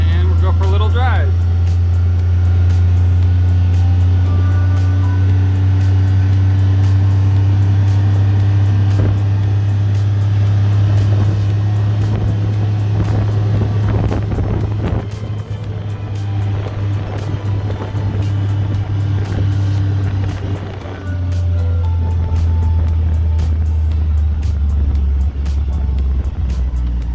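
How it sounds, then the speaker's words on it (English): A car drives along a road with a steady, loud low engine drone and road rumble throughout, dipping briefly near the end. "And we'll go for a little drive."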